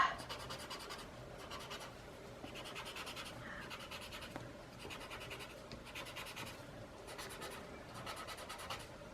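Soft scratchy rubbing of blue pencil on paper as a drawing is smudged, quiet repeated strokes in bursts with short gaps, close up and alone.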